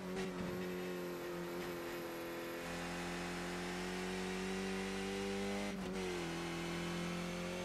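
A race car engine in the iRacing sim game holds a loud, steady high-revving drone throughout, with a brief dip and recovery near the end as it shifts or lifts, and no voices over it.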